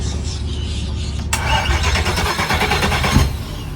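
Yacht engines crank and turn over unevenly, a steady low mechanical chug that hesitates before a louder, brighter burst of engine noise kicks in midway and carries on with fluctuating rumble.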